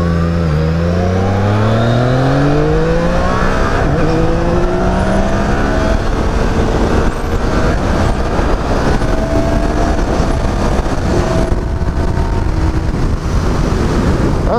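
A loud Yamaha Niken three-wheeled motorcycle with an MT-09 engine revs and accelerates in sport mode, pitch climbing through several gears, with strong wind rush throughout.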